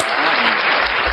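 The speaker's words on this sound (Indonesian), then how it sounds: "Tepuk tangan untuk Paulus." Loud, dense audience applause breaks out during a heated religious debate, a continuous roar of clapping close by with no voices over it.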